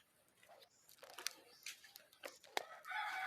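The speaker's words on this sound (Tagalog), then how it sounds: "Marami po kayong alagang manok." Chickens kept at a rural Filipino home crow and cluck in brief, overlapping bursts, a few sharp calls standing out against a steady background of birds.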